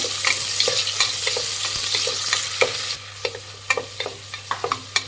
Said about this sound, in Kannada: ಮಿಕ್ಸ್ ಮಾಡಿ ಈರುಳ್ಳಿನ